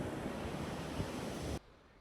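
Sea waves washing onto the golden sands of Novi Icari beach, a continuous broad rushing hiss with gentle surges and some wind, cutting off abruptly near the end.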